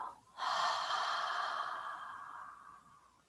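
A long, slow exhale during a guided breathing exercise, a soft airy rush that starts abruptly, holds steady and gradually fades over about three seconds, close and alone.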